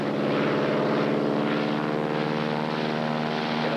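A skywriter propeller plane taking off over Lake Michigan in 1978, its steady, loud engine drone and propeller buzz holding close without a break.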